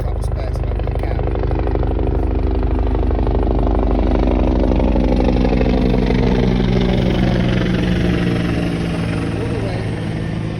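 Helicopters passing overhead near a cabin, a loud, steady rotor and engine drone with a throbbing pulse that fills the whole stretch and slowly shifts in tone toward the end.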